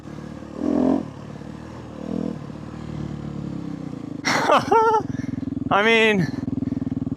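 A dirt bike engine runs while riding through the Arizona desert, a steady motor drone kept low beneath close voices talking over it.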